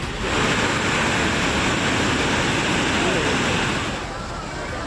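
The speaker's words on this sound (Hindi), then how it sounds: "झारखंड के ऊपरी इलाकों में हुई मूसलाधार बारिश के कारण जलप्रपात में अचानक पानी का बहाव तेज हो गया।" Floodwater roaring over a waterfall in Jharkhand after torrential rain upstream, a loud, steady broadband rush that holds constant throughout and eases slightly near the end.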